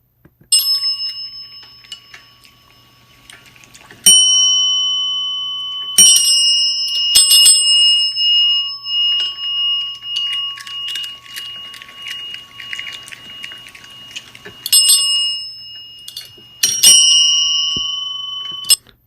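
Cats wearing hats ring small bells: repeated bright metallic rings and jingles come in bursts and clusters, fairly close and clear, with pauses between strikes and no talk.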